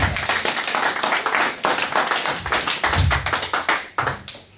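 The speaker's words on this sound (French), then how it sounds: "Applaudissez plus fort pour le roi des rois." A church congregation at a Sunday service applauds loudly and nearby, with many overlapping hand claps in a brisk, uneven rhythm that surges in waves and fades slightly at the end.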